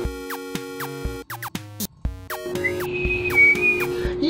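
A thin, steady whistled tone rises out of a busy mix of music and other sounds, holding for a couple of seconds near the end.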